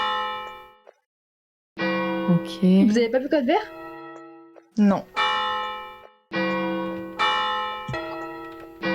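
A bell clangs in several loud, ringing strokes with long, bright decays, some overlapping. French-speaking voices talk between the rings.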